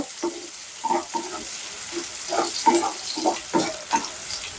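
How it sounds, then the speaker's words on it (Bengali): Onions frying in hot oil in a home kitchen give a steady, close sizzle broken by repeated bursts of stirring and scraping in the pan. "পেঁয়াজ ভেজে নিচ্ছি"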